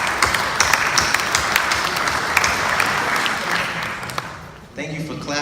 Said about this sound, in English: I'd like to give you a round of applause for that.